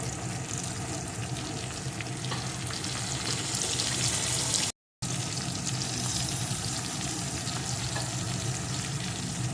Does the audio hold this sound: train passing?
no